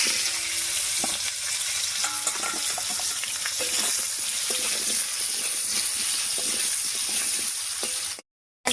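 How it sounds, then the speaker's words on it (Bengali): Cut potatoes frying in leftover fish-frying oil, a close, steady sizzle with intermittent clinks and scrapes of stirring, ending abruptly in silence. "এবারে মাছ ভাজার এই তেলের মধ্যে কেটে রাখা আলুটা দেবো"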